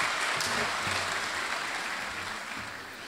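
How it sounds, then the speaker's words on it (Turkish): Audience applause at the opening of the 11th Bursa International Photography Festival, a dense, steady clapping from a large crowd that fades slightly toward the end. "Alkışlarla uğurluyoruz kendilerini."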